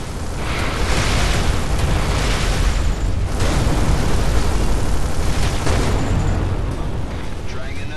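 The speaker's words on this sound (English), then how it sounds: "Several torpedoes are incoming." Dense, continuous explosions and booming blasts from incoming torpedoes in the space combat game Everspace 2, loud and sustained with rumbling low end and a few sharper bursts layered together.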